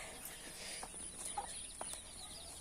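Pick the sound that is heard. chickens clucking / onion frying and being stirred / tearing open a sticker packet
chickens clucking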